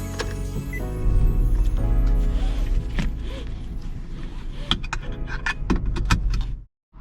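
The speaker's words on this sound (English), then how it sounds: "We're on the Autobahn now with the 2021 Nissan Micra." A 2021 Nissan Micra cruising on the Autobahn, with a steady low engine and road drone filling the cabin, some clicks and rattles near the end, then a brief dropout.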